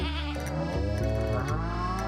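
Goats bleat in the farming video game Stardew Valley, a wavering, bleating call with a slight pitch bend, loud and close over soft background game music, with no talking.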